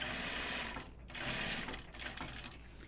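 Sewing machine running steadily while stitching the seam on a zip bag, a close, continuous whirring hum that briefly slows twice, with no voices.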